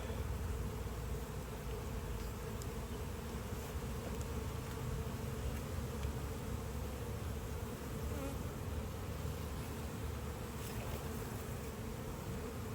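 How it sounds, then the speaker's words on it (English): A dense, steady buzz of many honey bees around an open hive during inspection, constant and close, with no talking. "Boy, do we have a lot of bees."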